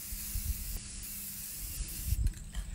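A continuous, even hiss of spray from an aerosol can, close by, with faint low rumbling and handling bumps underneath.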